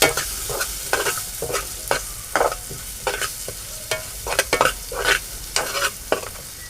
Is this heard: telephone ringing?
no